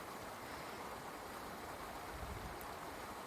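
Broad, steady rush of a river on the Isle of Skye, loud and close, with no voices.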